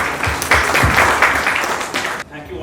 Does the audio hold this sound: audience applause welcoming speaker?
yes